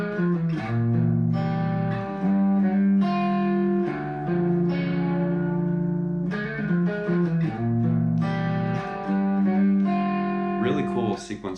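An electric guitar plays a slow sequence of sustained, effects-laden chords, each ringing out before the next, up close with no talking.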